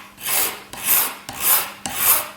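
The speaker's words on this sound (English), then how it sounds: "you're going to start the step of filing and sanding down the surface" Four long rasping strokes of a file scraping across a crushed stone jewelry inlay, steady and evenly spaced, close up with no voices.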